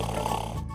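A man snoring, played back from a video recording, gives one loud, throaty rasp that fades out after under a second.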